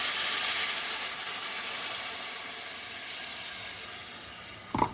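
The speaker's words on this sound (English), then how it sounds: "I'm just going to add a little bit of water in here." Water poured into a hot cooking pan to make a broth hisses and sizzles, a loud steamy burst that gradually fades, ending with a small clatter.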